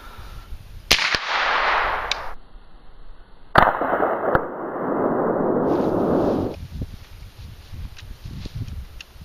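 Suppressed shots from a rifle chambered in 300 AAC Blackout, two sharp muffled reports a few seconds apart, each followed by a broad rushing noise lasting a second or more.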